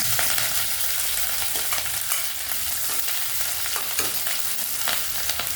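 Chopped green chillies sizzle hard in hot oil in a pan while cooking drumstick leaves rice, a loud, dense, unbroken frying hiss with crackles and stirring scrapes, no voices.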